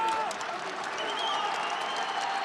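Steady applause from a fight crowd at a GFC MMA event rolls on for a couple of seconds without a break, with a voice faintly underneath.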